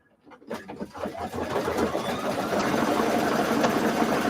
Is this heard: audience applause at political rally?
no